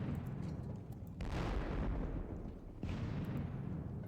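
Cannon of an artillery battery boom in a Napoleonic war game, two heavy broadband blasts near 1.2 and 2.8 seconds, each rolling out into a long rumbling decay over steady low background noise.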